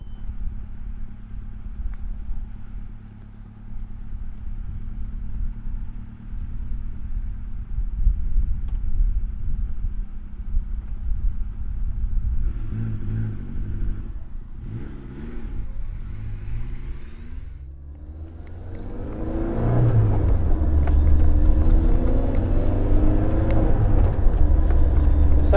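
1989 Saab 900 T16S driving: a steady engine drone and road rumble, a few shifting bursts midway, then a louder rising surge of engine noise toward the end.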